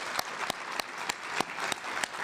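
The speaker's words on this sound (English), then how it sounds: "Please join me in giving another round of applause for Dr. Terence Campbell" Conference audience applauding after a presentation, a steady wash of clapping from a large crowd in a hall, fairly faint and continuous with no voices over it.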